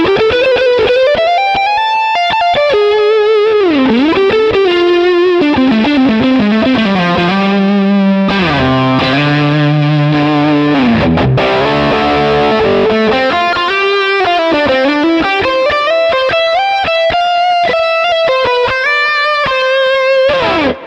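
An electric guitar on the neck pickup runs through a Vox-style amp preset on a Quad Cortex, playing a continuous melodic line with gliding bends and a warm, driven, chorus-tinged tone, loud and alone.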